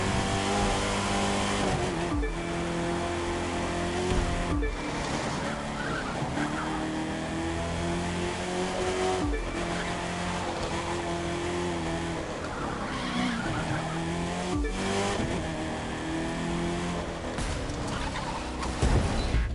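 Race car engines in The Crew 2 video game, with a Camaro ZL1 and Ford Mustang competing, roar steadily with rising and falling revs, punctuated by repeated tire skids and screeches, loud and continuous.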